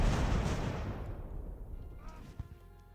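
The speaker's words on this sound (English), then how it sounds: "There we go, there's some artillery." Heavy artillery cannon fire in an Age of Sail era battle in Ultimate Admiral: Age of Sail opens as a loud rumbling boom and fades into a low rolling tail, with a few smaller distant thuds near the end.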